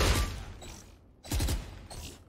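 Gunfire bursts from the video game Unlost, two loud clusters of rapid shots separated by a brief lull, with mechanical clatter and no talking over them.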